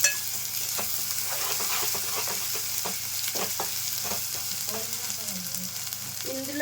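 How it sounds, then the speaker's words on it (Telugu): Ginger garlic paste sizzles and fries in a pan for a vegetable curry, a steady close hiss with occasional spoon scrapes and light clinks while it is stirred, no voices. "1 స్పూన్ అల్లం వెల్లుల్లిపాయ పేస్ట్ వేస్తున్నానండి."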